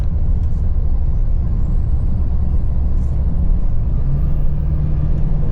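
A GMC Sierra HD pickup truck that is running poorly with a check engine light drives along, its engine giving a loud, steady low rumble mixed with road noise throughout.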